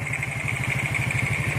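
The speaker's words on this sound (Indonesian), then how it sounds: "Yang bunyi, bunyi carburetor lah. Bunyi angin carburetor." Motorcycle engine idling with carburetor air intake noise, a close, steady rapid pulsing chug with a constant hiss of intake air, loud and unbroken with no talk.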